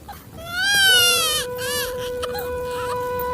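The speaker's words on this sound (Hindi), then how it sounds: "बच्चे की रोने की आवाज तो मेरे आंगन से ही आ रही है" A small baby cries in a courtyard, rising wails and whimpering sobs coming close and fairly loud, with a brief sustained tone lingering underneath.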